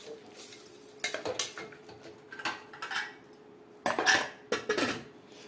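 Spoon scraping and clattering in a pot as mutton is stirred with ginger garlic paste, several separate bursts of metallic scrapes with short quiet gaps between them, close and moderately loud.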